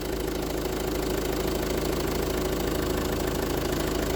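Renault Scenic 2 car engine idling steadily, a continuous even mechanical hum with a faint rhythmic knock, close and constant throughout with no talking.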